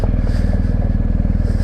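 A BMW motorcycle rides along with a steady, loud, close engine drone and a rapid low pulsing beat, and no talk.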